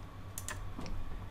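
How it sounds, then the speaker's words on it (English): Typing on a computer keyboard: a few quick, close key clicks in two small bursts over a quiet background hum. "typing in your topic, whatever it may be,"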